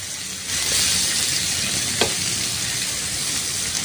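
Chopped onion frying in a little oil, with a steady, close sizzle throughout and a brief clink near the middle, loud and continuous with no talking.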